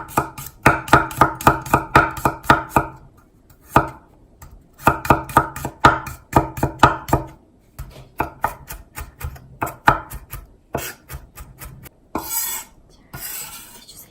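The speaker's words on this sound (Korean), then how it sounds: "물김치에 들어갈 마늘을 다져 보겠습니다." A kitchen knife rapidly mincing garlic for water kimchi taps on a cutting board in quick bursts of dense chopping, separated by short pauses, close and clear with no talking.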